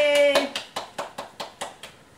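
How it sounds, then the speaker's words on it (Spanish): A child at a window during home quarantine claps hands in about eight evenly spaced, crisp claps, preceded by a short sung or spoken voice at the start. "Asómate y aplaude."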